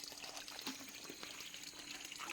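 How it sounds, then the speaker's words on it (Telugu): Water runs steadily into a container being filled with 100 litres for waste decomposer on a farm, a constant close rushing splash with no talking. "వంద లీటర్ల నీళ్ళు ఒకసారి నీళ్ళు పెట్టు"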